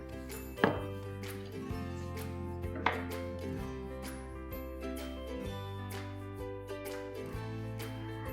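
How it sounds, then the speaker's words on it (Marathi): A knife chops through pudachi vadi, a Vidarbh-style Marathi stuffed snack, on a board, giving a few sharp separate thunks over a steady background hum and no talk. "आता आपण ही वडी कट करून घेऊया."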